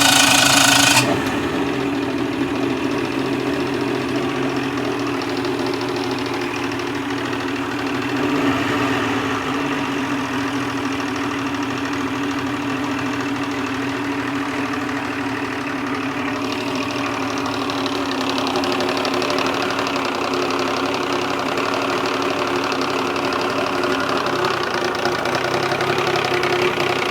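Boat engine idling steadily as it warms up after fresh spark plugs go in, on a lake; a continuous, fairly loud mid-pitched rumble with a slight knocking throb, constant throughout with no talk.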